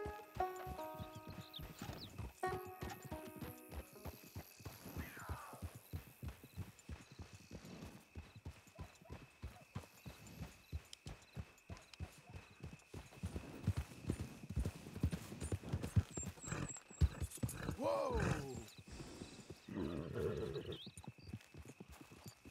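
Horse hooves clip-clop steadily in Red Dead Redemption II, a continuous run of close, even footfalls on the ground with an occasional snort or whinny over a constant background hum.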